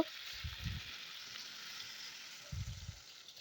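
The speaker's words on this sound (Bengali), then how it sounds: "এবার এখানে পরিমাণ মতো জল দিয়ে দেব।" Spiced okra and potato curry sizzling in a pan with a steady broadband frying hiss, punctuated by two short bursts of low clattering or bubbling as water goes in, no talking.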